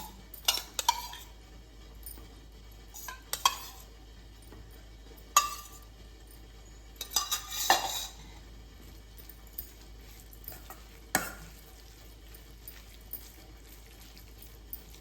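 Beetroot pachadi being stirred into thick, non-sour curd in a bowl, a spoon scraping and clinking against the sides in irregular bursts, with quiet wet squelches between them, close and moderately loud, with no voices.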